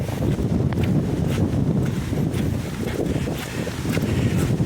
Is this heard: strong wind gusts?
yes